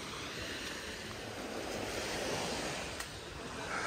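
Surf rolling onto a beach at high tide on Koh Phangan, Thailand: steady, loud, broadband wash with some wind buffeting the microphone, continuous throughout with no voices.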